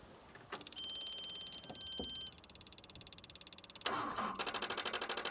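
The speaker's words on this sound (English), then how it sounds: "that's a jump pack all plugged in. Go on then, Maxie" A digger engine is cranked from a jump pack in an abandoned yard: faint, intermittent starter whirring in short bursts, with rapid rhythmic pulsing near the end and clicks in between.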